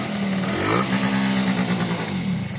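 A Honda Dio scooter engine runs at a fast, steady idle, close and loud, with a slight rise and fall in pitch and no speech.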